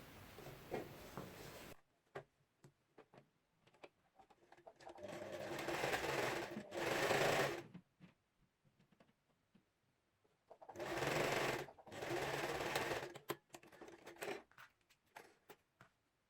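A sewing machine stitches across fabric for a scrunchie in several short bursts of whirring, some brief and some lasting a couple of seconds, separated by quiet pauses.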